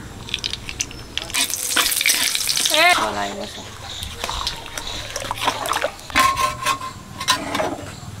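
Dried chilli, five-spice and bay leaf tempering in hot mustard oil, a crackling sizzle and spatter with clattering and stirring, heard close under someone talking.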